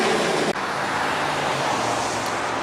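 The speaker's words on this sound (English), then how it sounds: "A lot of traffic going by." Steady roar of cars and other vehicles rolling past on a road in North Little Rock, Arkansas, a dense continuous wash of traffic noise, fairly loud and close.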